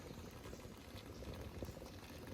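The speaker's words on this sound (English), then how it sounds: "That's boiling the water." Water boils in a Kelly Kettle outdoors, a steady, fairly quiet bubbling and rumbling churn that continues without pause, with no voices over it.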